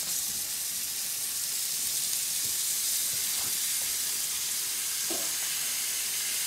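Lamb shoulder chops sizzle steadily on a grill, with fat melting, in a continuous loud frying hiss broken by a few faint clicks and taps.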